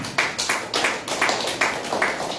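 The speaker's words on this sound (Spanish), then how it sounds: "Dale una ofrenda de palmas al Señor, hermano" A church congregation claps in unison as an offering to the Lord during a Sunday service, sharp rhythmic group claps landing roughly every half second, close and loud.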